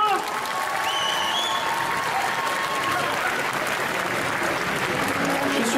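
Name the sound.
applause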